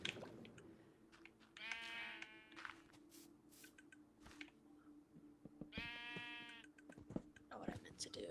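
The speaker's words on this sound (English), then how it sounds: "The sheep's behind me." Two quiet, nasal sheep bleats in the Minecraft video game, one early and one later, over a low steady tone, with a faint voice murmuring in the background.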